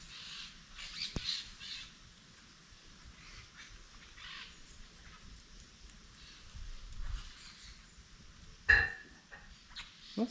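Birds call on a small farm where parakeets are perched up high, scattered faint squawks and chirps at a distance over a soft outdoor background hiss, with one sharper nearby call near the end.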